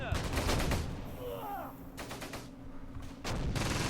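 Gunfire from the WWII tactical video game Close Combat: Gateway to Caen during a multiplayer match, with repeated rapid bursts of machine-gun and rifle shots, brief lulls between volleys and a short whistling tone in the middle.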